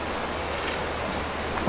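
Ocean waves break and wash onto a beach on Maui in a steady, close, broad roar of surf that lasts the whole moment without a voice.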